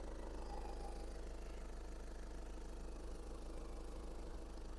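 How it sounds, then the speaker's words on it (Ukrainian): A Skoda Superb 4x4 2.0 TDI diesel engine idles with a low, steady hum, even at a distance, faint and continuous with a soft rhythmic knock. "Мотор працює дуже рівно."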